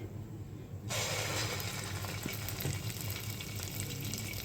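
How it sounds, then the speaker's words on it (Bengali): Doi bora fritters of spiced lentil batter fry in oil: a softer bubbling hum first, then a sudden jump to a loud, dense, steady sizzle that holds to the end, heard close with no voices. "বড়াগুলো ভেজে নেব দেখো বড়াগুলো সুন্দর ফুলছে"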